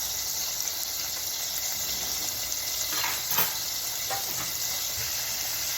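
Steady, dense sizzle of cod frying in oil, continuous and fairly close, with a few brief crackles and no talking.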